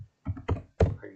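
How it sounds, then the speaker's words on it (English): Keys clatter on a laptop keyboard during a troubleshooting session, several quick close taps in a short irregular burst, one sharper louder stroke near the end, no voices. "So if we type this in here"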